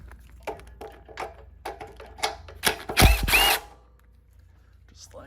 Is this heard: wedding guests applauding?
no